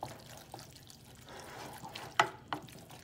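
A spoon stirs American goulash simmering in a pot, giving quiet wet scraping with a soft sizzle. A few sharper knocks against the pot stand out near the end.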